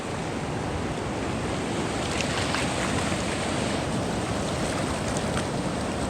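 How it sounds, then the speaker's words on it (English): A river in the Grand Canyon along the Escalante Route rushes steadily and loudly, a dense continuous roar of moving water with a bit of wind, heard alone without voices. "enjoy this amazing river"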